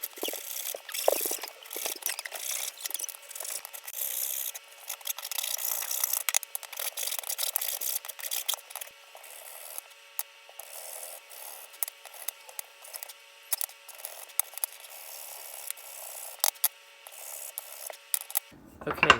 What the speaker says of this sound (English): Probably sand them down a little bit to make them smooth so it's not ripping the bands